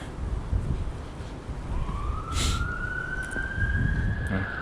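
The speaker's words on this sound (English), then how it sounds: "And sirens, of course" A distant siren wails and rises in pitch over steady low rumble and howling wind in a Bristol woodland, with no voices.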